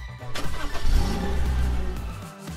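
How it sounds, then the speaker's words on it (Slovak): A car engine cranks, catches and settles into a steady running hum up close, with a brief burst of revving as it fires, heard without talk. "Motor musí byť naštartovaný."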